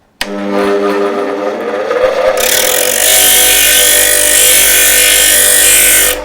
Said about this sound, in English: So turn on the wheel, turn on the motor there, and I'm going to just move that across the surface evenly.